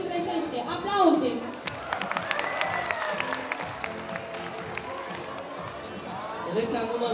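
An audience applauding at a high school freshman ball, with continuous, dense clapping and cheers filling the room and voices chattering over it.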